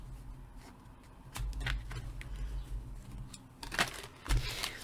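Tarot cards are shuffled close by in a few short, crisp riffling bursts separated by quieter pauses, with no talking.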